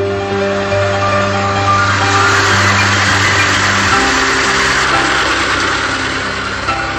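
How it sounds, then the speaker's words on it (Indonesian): An engine-driven pump drains water from a shrimp pond ahead of the harvest, its motor droning loudly and steadily at idle with a constant vibrating hum throughout, no voices over it. "kita lakukan dulu penyedotan air dengan mesin sehingga memudahkan pengambilan udang"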